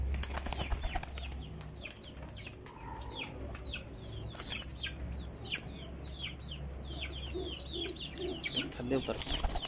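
Pigeons flutter and flap their wings in bursts through a loft of mixed parwazi and breeder birds, with chirping and cooing nearby and a steady low hum underneath, while people talk in the background.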